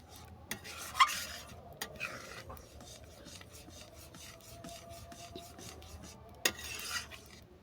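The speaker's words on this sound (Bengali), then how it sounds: "জিরে গুঁড়োটা ভালো করে মিশিয়ে নিচ্ছি" Cumin powder being stirred into bottle gourd lentil dal, a steady scraping and rubbing of a spoon against the pot with a few sharper clinks, close and alone, no talking.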